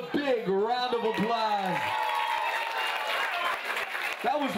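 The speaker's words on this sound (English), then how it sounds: "Give yourselves a big round of applause." Guests at a bar mitzvah after-party clap and cheer in a lively burst of applause, with a host's amplified voice talking loudly over the crowd noise.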